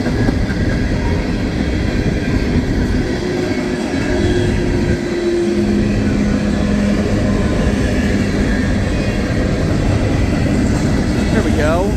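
A Norfolk Southern coal train rolls past on the Mon Line toward Shire Oaks, a loud continuous rumble and rattle of heavy cars with steady clatter, close by, with faint voices now and then.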